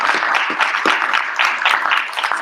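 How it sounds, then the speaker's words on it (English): A live audience at a fan event breaks into dense, sustained applause, a crowd of hands clapping steadily for a couple of seconds. "Let's give that a round of applause"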